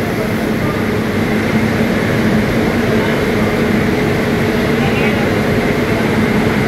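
The Vijayawada WAP-7 electric locomotive T9385 hauls the Tirumala Express 18522 with a steady, continuous rail rumble close by, and a voice can be heard over it.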